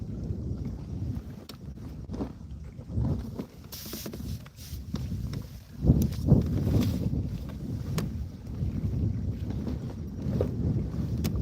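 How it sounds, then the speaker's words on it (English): Gusty wind buffets a GoPro microphone out on the water during kayak fishing, a steady low rumble with stronger bursts and a few knocks and handling thumps, loud and close throughout with no talking. "So y'all can probably hear that wind now."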